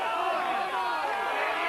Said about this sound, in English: The crowd roaring for Eddie Ellwood.